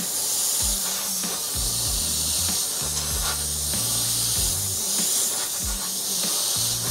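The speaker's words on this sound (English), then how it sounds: "just gonna use that spray through it and move it around" Airbrush spraying paint through a loose template to build bark texture, a steady close hiss running throughout, with a low intermittent compressor hum pulsing underneath; no talking.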